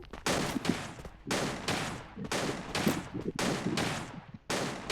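Rapid bursts of automatic gunfire crack in a multiplayer battle royale shooter, several loud close volleys separated by brief pauses over about five seconds.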